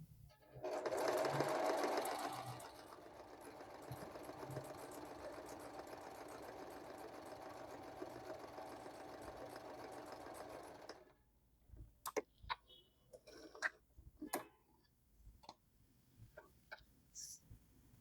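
A Singer M3335 household sewing machine runs a straight stitch at a very short stitch length, one steady loud whirring burst of about ten seconds followed by quieter clicks and handling noises.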